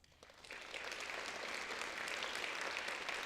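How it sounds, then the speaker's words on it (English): A high school audience applauds new National Honor Society members, clapping swelling in over the first half second and then holding as a steady, even wash of many hands, fairly soft and distant. "Let's welcome these new National Honor Society members with a big round of applause."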